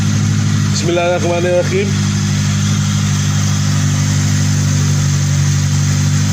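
Tuned Toyota 2ZZ-GE engine with ported intake and runners and a 70mm throttle, started for the first time after a retune, holds a loud steady idle throughout, with a short spoken phrase near the start.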